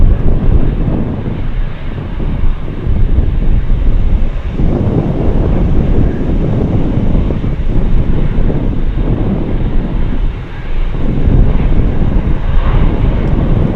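Cathay Cargo airliner at Anchorage airport: a steady, loud, broadband jet engine roar with wind buffeting on the microphone, continuous throughout with slight swells.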